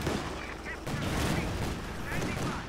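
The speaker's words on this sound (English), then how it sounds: "Anti-tank rifle grenade just barely failed by the looks of it" Battle sounds from Company of Heroes 2, with an anti-tank rifle grenade among dense gunfire: a continuous, loud wash of overlapping shots and blasts running throughout, with no clear gaps between them.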